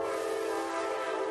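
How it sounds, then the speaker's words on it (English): A high-speed train decelerating from about 167 mph, heard as a steady, loud roar with a whining tonal hum that holds evenly throughout. "a video of a train decelerating here"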